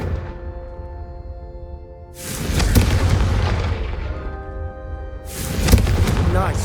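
Two heavy booming fire-spell blasts from the Confringo spell in the Hogwarts Legacy video game, each a loud deep burst that rumbles and fades, over soft game music.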